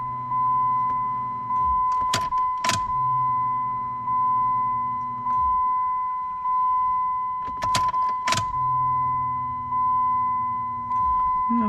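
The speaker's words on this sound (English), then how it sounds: "I'm gonna have to prime the fuel pump a few times. Let's just do that now." Fuel pump on a worn Dodge SRT-4 priming in repeated cycles, each a low steady hum that cuts off, while a steady electronic chime tone runs throughout and pairs of sharp clicks sound twice, with no talk.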